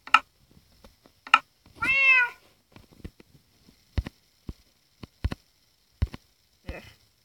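Cats in a video game meow: two short chirps, then a longer warbling meow, followed by a series of sharp clicks or taps spaced about a second apart, close and clear with no talk.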